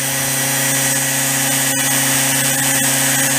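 A Cringle model generator runs steadily at 1000 RPM, giving off a loud, constant mechanical hum and whine with no speech over it.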